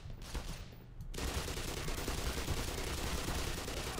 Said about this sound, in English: Oh god, there's just so many guns. So much firing.